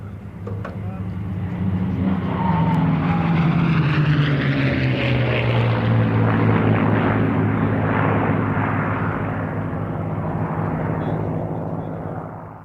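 Several P-51 Mustang fighters with piston engines and propellers fly past at a Duxford airshow, a deep roaring drone that swells, sweeps downward in pitch as they pass, then slowly fades, with no voices.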